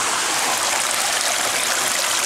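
Shoveled material poured into a gold sluice with water flowing through it, a steady continuous rush of running water close by with no break or pause.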